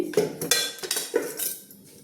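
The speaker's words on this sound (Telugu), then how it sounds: "కొంచెం ఆయిల్ బాగా కలపాలండి" Spoon scraping and clinking against a metal pot while chicken is mixed with oil and turmeric, a few close, uneven knocks and scrapes over about two seconds, no voices.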